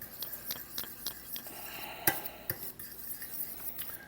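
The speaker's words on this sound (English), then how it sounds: "blend this in with a fork instead of a spoon" A fork scrapes and clinks rhythmically against a pot or bowl while blending a sauce for cordon bleu meatloaf, a series of close, quick metallic taps with one sharper knock near the middle, over a faint background.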